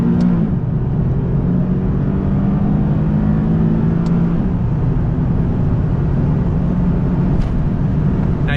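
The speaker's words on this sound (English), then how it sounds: "now you can hear that wind noise really increasing as we increase the speed of it" A 2019 Nissan 370Z Roadster driving at speed, its steady engine drone rising in pitch under a constant wash of wind noise that swells as the car accelerates.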